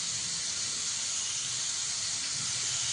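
Chopped ginger frying in hot oil in a home kitchen gives a steady, close hissing sizzle that runs unbroken throughout, with no talking.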